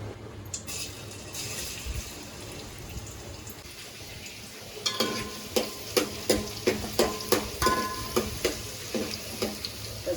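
Garlic frying in oil for a village-style crab curry, a steady sizzle that becomes a run of sharp, regular clinks and scrapes of a spoon stirring in the pan.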